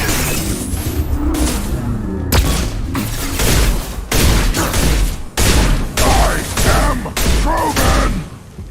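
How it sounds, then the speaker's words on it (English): In the video game Mass Effect 2, a flashbang grenade goes off amid dense gunfire and booming impacts, loud sharp blasts repeating every second or so, with character voices mixed underneath. "Flashbang!"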